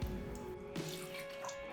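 Homemade beef stock poured over ribs, a brief close splashing and trickling of liquid that stays fairly steady throughout.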